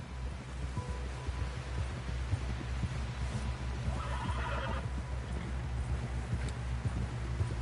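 A horse in Red Dead Redemption gallops with steady rhythmic hoofbeats and lets out a short neigh midway, mid-distance and moderately loud, with no talk.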